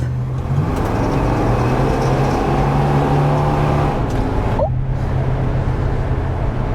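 A 1969 Dodge Polara 440, a former CHP car, has its engine droning loud and steady from close inside the cabin as it accelerates on a closed course, with a rising tone near the end.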